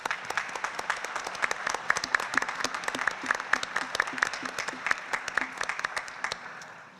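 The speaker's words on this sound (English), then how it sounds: "a short round of applause for all of the volunteers." Audience at a Framingham at-large candidates' debate giving a short round of applause for volunteers, moderate clapping from a modest crowd that rises, holds steadily, then begins to fade at the end.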